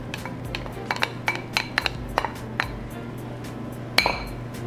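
Cans of pinto beans, black beans and whole kernel corn tipped into a cooking pot, giving a series of light metallic clinks and taps scattered irregularly, with one sharper clank near the end.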